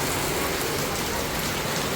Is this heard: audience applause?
no